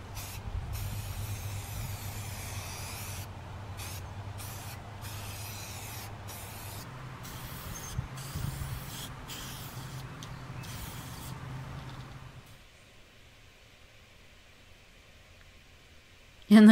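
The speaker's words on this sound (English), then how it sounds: "I'm just giving it a coat of the black flat spray paint." Black flat spray paint hisses from an aerosol can in a series of short, close bursts broken by brief pauses, and the spraying stops near the end, leaving a faint room tone.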